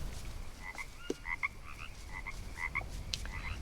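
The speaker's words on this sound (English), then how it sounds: "There's a lot of frogs." Frogs in the swampy jungle of the survival game Green Hell croak over and over, faint and somewhat distant, short repeated calls set against a steady hiss of ambient noise.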